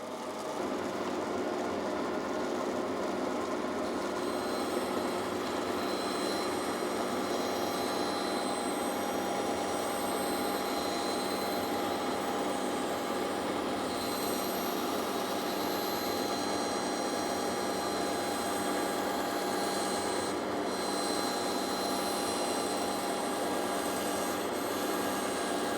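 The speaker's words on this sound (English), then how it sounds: "We're gonna hit this, turn on our dust collector." A woodshop dust collector runs throughout with a loud, steady, unbroken roar and whine that stays constant from start to finish.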